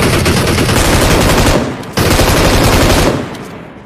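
Loud, close automatic gunfire from a multiplayer shooter game, a dense continuous burst that briefly dips, resumes, then tapers off.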